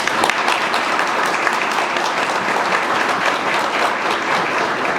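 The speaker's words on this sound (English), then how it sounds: "give him a round of applause, please." Continuous crowd clapping at a police recruit class graduation ceremony, honoring the chief; even, moderately loud applause that holds steady for the whole stretch.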